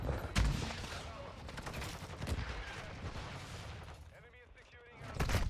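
Shotgun blasts in Call of Duty Modern Warfare 2 gameplay, a few sharp separated shots over busy game noise, with a player talking over them.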